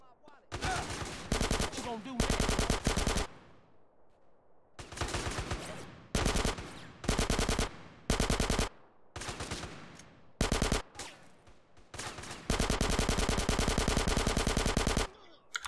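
Sustained bursts of automatic gunfire in Grand Theft Auto San Andreas, loud and close, alternating with short gaps and ending in a long continuous stream of rapid shots.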